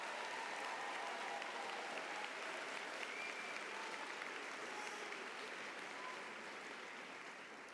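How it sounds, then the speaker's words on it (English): An audience at a school graduation ceremony gives a sustained round of applause that holds evenly for several seconds and then begins to thin out. No one speaks. "Please give all students a round of applause."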